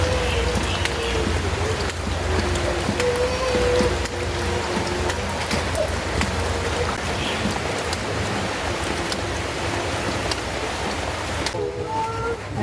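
Rain falls steadily outside a house during a family meal, a continuous soft wash of patter and drips heard at a moderate distance, with faint background sounds and no clear speech.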